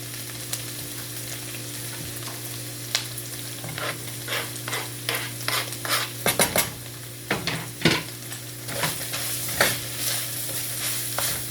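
Smashed red kidney beans being stirred into a turkey chili mixture in a pot, with close, irregular clinks and scrapes of a utensil against the pan and a soft sizzle underneath.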